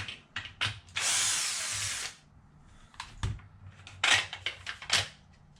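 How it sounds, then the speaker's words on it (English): A small handheld power drill spins on screws to remove a part from an Arrma Vendetta RC car, with one sustained whir amid short bursts of drilling, clicks and handling noise close by. "So I set this up just on a little drill."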